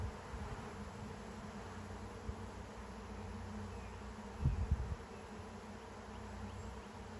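A swarm of honey bees hums in a steady, continuous drone close by, with a brief louder thump of handling noise partway through and no voices.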